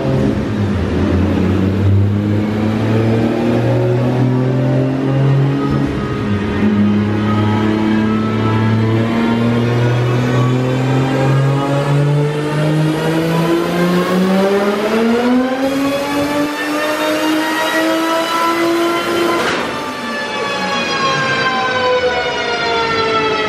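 A turbocharged BMW 335i with a big turbo revs hard on a Dynojet dynamometer during a boosted pull. A loud, sustained engine note climbs steadily in pitch, eases briefly, then sweeps up again, with no talking.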